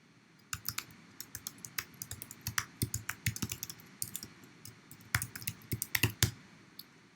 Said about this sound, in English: So make sure you type your email address.